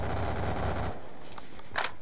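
Rapid burst of video game gunfire with a dense low-end roar fills the first second, then drops to a quieter bed with a few scattered shots and a brighter sharp crack near the end.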